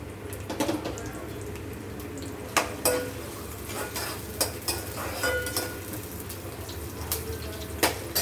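Onion and green chilli pieces fry in a pan for a fish curry, with a steady low sizzle under repeated clinks and scrapes of a spoon stirring against the metal, all fairly close and without talk.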